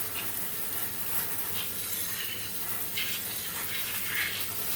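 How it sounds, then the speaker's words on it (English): Water sprays steadily from a sprayer with a hissing, splattering rush, close and continuous throughout, while cleaning a 1937 Westinghouse WR-212 radio chassis. "This wifey loves this because it splatters water everywhere."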